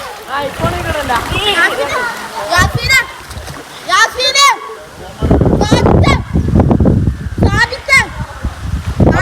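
Children splash and play while bathing in a pond, with loud bursts of splashing water, shrieks and excited voices close by, and speech throughout.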